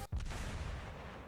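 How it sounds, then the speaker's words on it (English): Cannon fire in the video game Azur Lane: one heavy, booming blast followed by a broad, rumbling roar that lingers and slowly fades, with no voices. "the sound of a cannon echoed far and wide"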